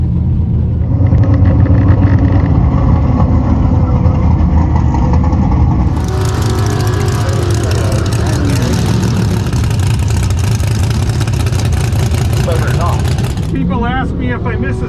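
A big-tire 1967 Camaro with a 406ci engine launches and roars down a quarter-mile drag strip, a loud, sustained engine rumble rising through the run, with voices and crowd noise mixed in.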